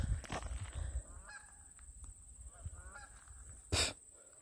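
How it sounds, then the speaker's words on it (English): A goose honks a few times, loud and close, with a sharp cry near the end and quieter rustling between calls. "There be a goose. It be honk."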